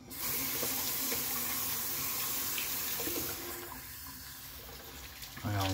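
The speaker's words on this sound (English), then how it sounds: "warm and cold into kind of a lukewarm, just to get all the lather off" Tap water runs steadily into a sink, a warm and cold lukewarm mix used to rinse shaving lather off a razor or face after a wet shave, continuous and close, then tapering off near the end with a soft knock.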